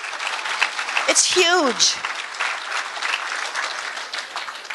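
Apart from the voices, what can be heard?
audience applause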